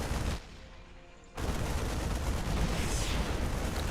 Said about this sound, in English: tank volley is going up